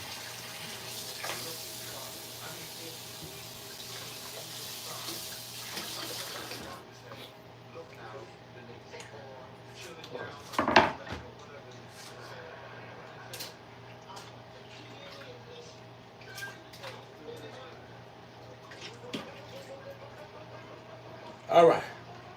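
Ribs rinsed under a running kitchen tap, a steady soft rush of water with a few louder splashes and clatters, while someone talks quietly at intervals.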